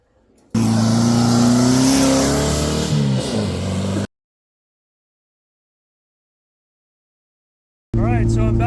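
A Mazda RX-7, limping along with a wastegate and downpipe problem, drones loudly as it drives on the road, its revs rising and then dropping. The sound cuts to silence for several seconds, then resumes briefly at the end.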